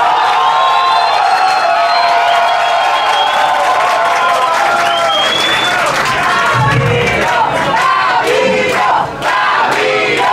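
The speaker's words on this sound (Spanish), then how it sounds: "Fuerte los aplausos para Patricio Beizaga." Loud crowd cheering, whooping and shouting with scattered applause from a talent show audience, sustained and dense for the whole stretch.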